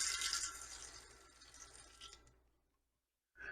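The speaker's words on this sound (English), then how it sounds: "I put a little bit of warm water" Warm water poured into a cast iron pan in a kitchen, a faint hissing splash that fades over about two seconds, then silence before water starts again briefly.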